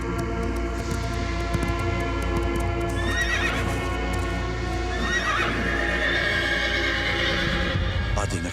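A horse whinnies loudly and repeatedly over a steady clatter of hooves, with a second shrill neigh near the end, and no speech on top.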